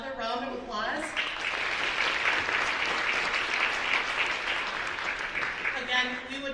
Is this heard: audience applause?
yes